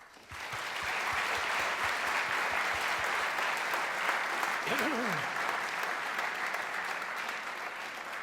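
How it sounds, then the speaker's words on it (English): Sustained audience applause at a live university debate on whether science can explain everything, a dense steady roar of clapping from a large crowd lasting several seconds, with a brief voice rising faintly through it. "So please join me in a round of applause for our guests."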